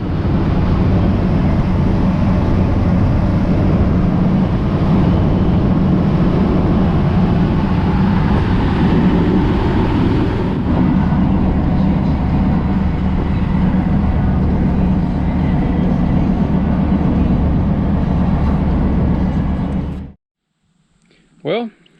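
A 1990 Ford F350 pickup on a test drive gives a steady, loud interior drone of engine and road rumble that holds evenly for about twenty seconds, then cuts off abruptly, leaving near silence with a brief bump at the end.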